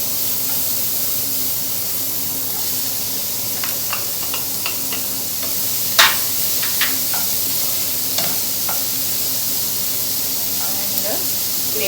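Chopped onion and capsicum sautéing in a pan with no oil, a steady soft hiss of steam and cooking with scattered clicks of a spoon stirring against the pan throughout.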